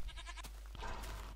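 A Minecraft sheep bleats once in a wavering tone, close and fairly clear over a low steady hum from the game.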